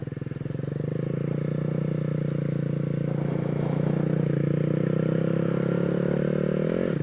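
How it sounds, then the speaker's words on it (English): A Honda Grom motorcycle on a solo ride gives a steady, close engine drone throughout, holding an even pitch before a slight rise and dip at the very end. "A solo ride on Grom."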